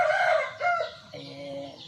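A Burmese rooster about six to seven months old crows in short, harmonic bursts, a clear call that breaks off and resumes more faintly, close by with a quiet background.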